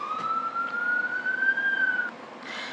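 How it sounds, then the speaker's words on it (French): An ambulance siren passing outside, a steady tone gliding slowly upward for about two seconds before cutting off, heard at a moderate distance over faint background hum. "j'ai dû mettre pause parce qu'il y avait une ambulance qui passait"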